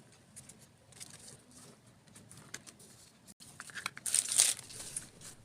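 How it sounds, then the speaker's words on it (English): Scissors cut a small doll-sized apron out of folded plastic sheeting with a paper pattern stuck on top, giving soft crinkling and snipping that grows louder and busier toward the end. "This way it doesn't move around when I'm cutting out the apron."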